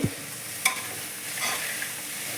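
Drumstick leaves and moong dal tempering in a hot pan, giving a steady close sizzle with a few sharp stirring knocks and scrapes, no voices.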